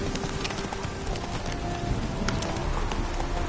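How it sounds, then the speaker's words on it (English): The horse Roach clip-clops steadily in The Witcher 3, hooves beating in a quick even rhythm at close range under a wash of ambient noise. "Spooking my horse."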